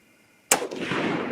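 A single sharp, loud .308 Winchester rifle shot firing a Federal 110-grain V-Max factory load, bursting out of near silence and trailing off in a long rolling echo.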